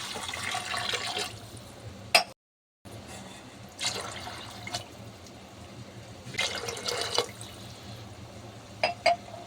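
Water pours into a pressure cooker holding salted rajma, a steady close gurgling splash running throughout with a few brief pauses and sharp clinks, no talking.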